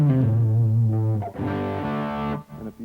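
Distorted electric guitar with a gritty, dirty tone, ringing sustained notes and chords that shift once midway and then cut off, loud and close, with no voices.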